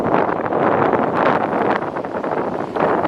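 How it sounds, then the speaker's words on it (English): Strong wind gusts buffet the microphone beside a jetty at a small harbour on the Eyre Peninsula, a loud, rushing, uneven roar that swells and eases with no talking. "it's just this wind is a bit of a downer"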